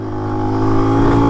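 A Lifan X-Pect enduro motorcycle runs close by with a steady, loud mid-pitched engine drone that rises slightly as it rides, lasting just over a second.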